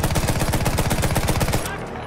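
Sustained rapid machine gun fire in the World War I shooter Battlefield 1, a steady heavy rhythmic burst of shots lasting about a second and a half before cutting off into a lingering echo.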